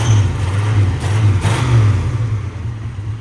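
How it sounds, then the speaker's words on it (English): A 1991 Jeep Grand Wagoneer engine revs up close, rising and settling in a couple of loud swells over its low running rumble. "Give it another rev to keep her"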